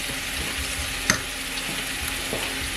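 Brown sugar being stirred into a hot pan while cooking a weeknight dinner, a steady soft sizzle with light scraping strokes and one sharp clink of the utensil against the pan partway through.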